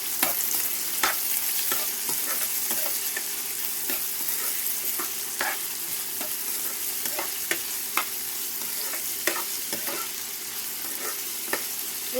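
Chopped onions sizzle steadily in hot oil for a chicken curry, with a spoon scraping and stirring through the pan in repeated sharp clicks over the continuous crackle; close and fairly loud, no talking.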